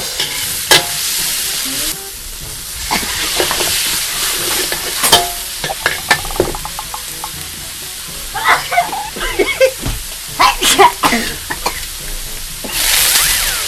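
Minced pork stir-fried with bird's eye chilies for pad kaprao, loud continuous sizzling in oil with repeated scraping stirs of a spatula against the pan, close and busy throughout.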